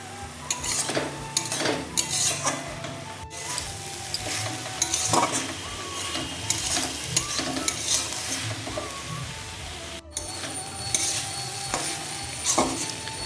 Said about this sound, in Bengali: ভাজা হয়ে গেছে এই লাফার শাক